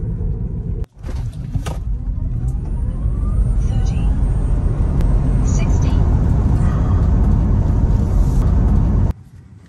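A Tesla Model 3 Long Range AWD driving and turning around, a steady low road rumble and faint electric motor whine heard from inside the cabin, continuous and even until it cuts off abruptly near the end.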